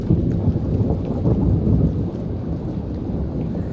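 A thunderstorm with constant thunder, a continuous deep rumbling roar that swells and rolls without a break, heavy and close, with no voices.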